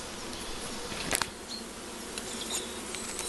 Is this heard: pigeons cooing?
no